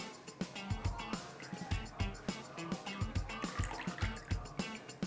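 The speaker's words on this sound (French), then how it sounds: "je viens le verser dans mon rhum" Juice squeezed from a fresh orange is poured into rum, giving a soft run of gurgling, dripping liquid with small rhythmic splashes, close and fairly quiet, with no talk.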